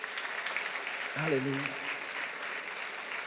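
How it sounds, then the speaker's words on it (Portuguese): A church congregation claps together in a broad, steady wash of applause while a voice calls out briefly over it. "Dê uma salva de palmas para Jesus."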